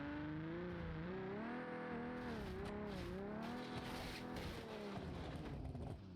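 Inline-six car engine in the BeamNG Drive driving game, a steady, buzzy drone that rises and falls in pitch as the revs swell and ease, loud and continuous with no talk over it.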